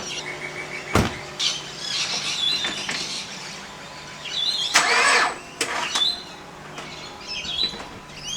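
A Gen 4 Mitsubishi Pajero with a flat battery tries to start: sluggish cranking bursts and squeals come up close over a noisy background. The strongest attempt lands near the middle, and faint birdsong sounds in between.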